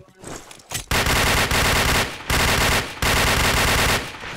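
Shooter video game gunfire: long, loud bursts of automatic rifle fire, close and rapid, broken into several strings by short pauses.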